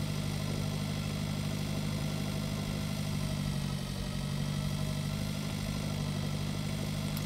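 A farm vehicle engine in Pure Farming 2018 drones steadily at a constant moderate pitch while driving, with a continuous mid-low rumble and no change in revs or any speech.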